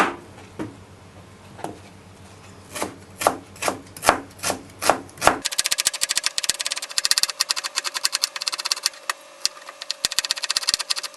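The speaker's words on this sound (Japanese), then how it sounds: "それでは玉ねぎを切っていきます" Kitchen knife chopping onions on a board during Chinese char siu pork prep: a run of distinct close, sharp chops in steady rhythm, then a denser, faster stretch of clicks and scraping with a steady hum beneath.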